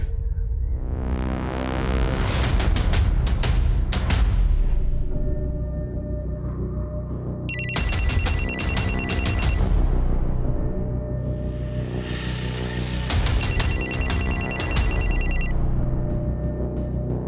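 Telephone rings in repeated loud electronic bursts separated by short gaps, with no one talking.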